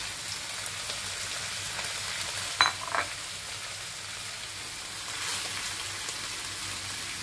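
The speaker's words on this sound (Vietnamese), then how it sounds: "nó đổ rau sắn vào xào" Chopped cassava leaves hitting hot rendered pork fat in a pan, a soft, steady sizzle and crackle with a couple of brief louder spits, faint and continuous throughout.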